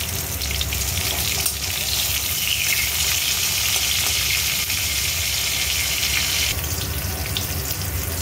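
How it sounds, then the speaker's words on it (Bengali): Slices of pointed gourd fry in hot oil, giving a steady, even sizzle and hiss that runs continuously at moderate loudness with no voices. "পটলগুলো আগে ভেজে তুলে নেব।"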